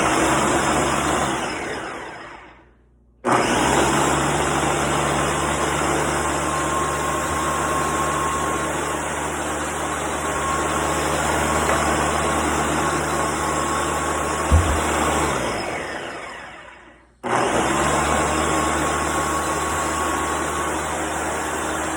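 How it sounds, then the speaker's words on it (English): A loud blender whirs continuously at full power, cutting off briefly twice and restarting, a steady roaring motor drone throughout. "Blender's doing all the hard work."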